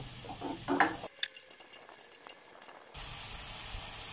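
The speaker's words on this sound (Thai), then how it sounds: "พอกลิ่นหอมแล้วผมก็จะใส่หมูสับลงไปนะครับ" Minced pork stir-fried in a wok with fingerroot and cardamom, a loud burst of sizzling and scraping stir strokes, then a steady hissing fry.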